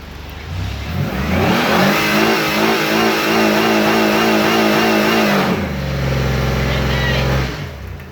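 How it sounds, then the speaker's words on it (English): A Chrysler car engine is revved hard during a motor test, with the pitch climbing and holding at a loud, strained high rev before easing off to a lower drone, recorded up close while people talk over it. "This Chrysler's got a damn good motor."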